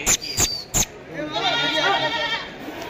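Goats bleating at the Deonar goat market, three sharp calls in quick succession up close, followed by a busy crowd murmur and more distant bleats.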